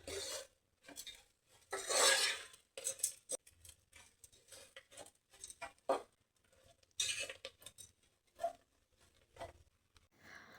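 Coconut, mint and coriander stirred in a pan, intermittent scraping and rubbing strokes of a spoon against the pan, close and fairly quiet, with short pauses between bursts.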